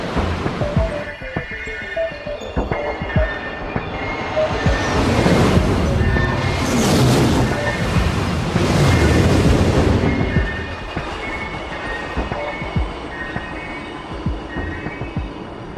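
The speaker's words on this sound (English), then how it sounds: "a train that could travel from London to Paris in less than an hour" A maglev train travels along its track, a rising rumbling whoosh that swells to a loud peak at mid-passage and then fades back, with a steady hum throughout.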